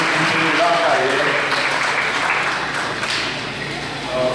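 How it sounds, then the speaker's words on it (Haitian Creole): An audience at a Haitian solidarity day for the Polish community applauds deputies with a steady, fairly loud patter of clapping that slowly fades, while a voice talks over it. "Applaudis encore une fois, mesdames et messieurs, les députés de la carrière."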